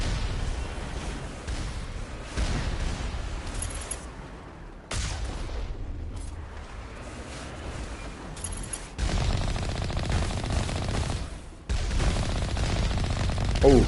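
Rockets and gunfire during combat in Mass Effect, dense bursts of rapid shots and booming impacts over nearly fourteen seconds, loud and close with abrupt cuts between sections.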